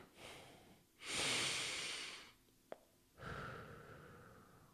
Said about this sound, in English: I sit up nice and tall and I breathe in deep